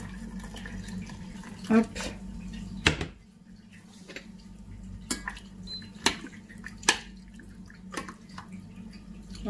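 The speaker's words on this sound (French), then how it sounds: "je vais venir juste tremper mes pommes de terre dedans" Potato pieces dipped into a pot of hot water on a home stove: light splashes and drips over a low kitchen hum, with someone talking at times.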